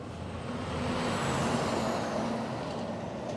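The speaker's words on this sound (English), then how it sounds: "Wait for the trucks to go past." Trucks passing on a road, a broad roar swelling and fading over a few seconds, heard at moderate distance with a faint high hiss of brakes.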